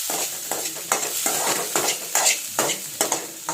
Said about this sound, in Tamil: இதை வந்து ப்ரௌன் நிறமாக நம்ம வந்து நல்லா வறுத்துக்கலாம்